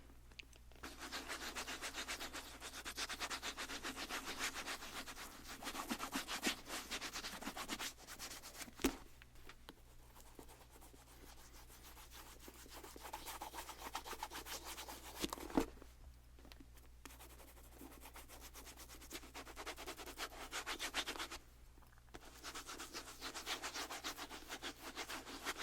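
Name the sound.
buffing Louis Vuitton sneaker with nylon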